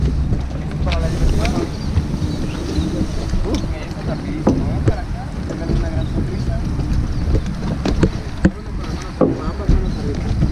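A small motorboat runs on the sea off Cancún with a steady engine drone, wind buffeting the microphone, and splashing water throughout.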